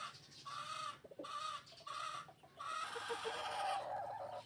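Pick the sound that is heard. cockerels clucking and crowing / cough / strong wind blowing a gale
cockerels clucking and crowing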